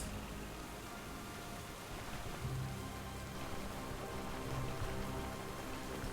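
Rain falls in the video game Stoneshard, a faint, steady hiss of drops pattering on surfaces with no voices.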